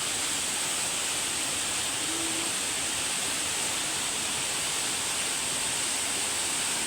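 Alitap Falls in Mauban, Quezon, swollen by rain, pours in a steady, loud, broadband roar of falling water that holds constant and close throughout, with no voices.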